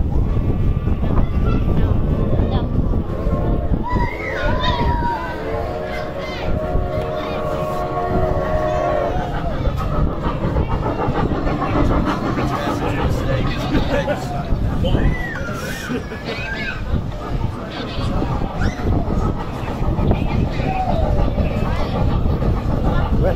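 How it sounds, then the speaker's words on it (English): Riding aboard a train on the way to Blackpool, a constant rumbling carriage drone with wheel clatter fills the space, while voices chatter and babble throughout and occasional squeals ride over the top. "So guys, I'm on the train now."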